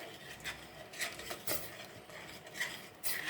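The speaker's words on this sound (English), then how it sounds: "I'm going to use a wooden spoon, but I just want all the peanut butter that stuck to the spoon come out" A wooden spoon scrapes and stirs melted peanut butter in a pot for a coconut and peanut punch, giving soft repeated scraping and clinking strokes at an uneven rhythm, quiet and close with no talking.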